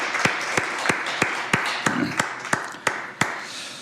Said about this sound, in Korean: 하나님의 그 은혜의 손길을 기억하며 먼저 감사와 영광의 박수를 올려드렸으면 좋겠습니다